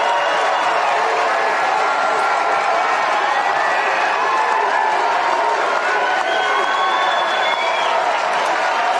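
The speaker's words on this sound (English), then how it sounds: "Look at the applause" A large audience applauds and cheers in a loud, sustained, dense roar of clapping and mixed voices that holds at a constant level throughout.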